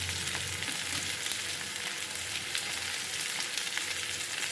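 Parshe fish fries in oil with turmeric and salt while being stirred, giving a dense continuous sizzle with faint scraping and crackles, close and steady, no speech.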